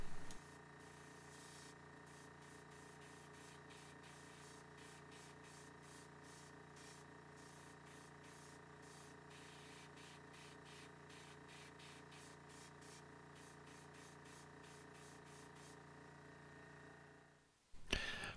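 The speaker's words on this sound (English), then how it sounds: "I'm going to start it off by spraying just a little bit of orange on the connection point of the fin" Orange and yellow spray paint hisses onto the fin of an MDF bluegill crankbait in a long, steady spray that stops abruptly near the end.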